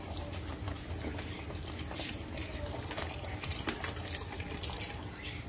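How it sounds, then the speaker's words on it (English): Water pouring into a pot for Puerto Rican rice with pigeon peas, a steady close-up rush and splash of running liquid that holds without a break. "And so now we're ready to add our water."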